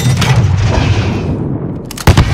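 A grenade explosion in the Call of Duty: Modern Warfare embassy mission, a loud booming blast amid dense gunfire and battle noise, with a sharp second burst near the end.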